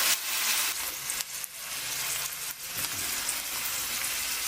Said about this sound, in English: saute the capers as well